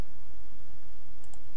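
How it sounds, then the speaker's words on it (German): Mouse clicks while playing the video game Civilization IV, two faint quick clicks near the end after a stretch of low room hiss. "Klick, klick."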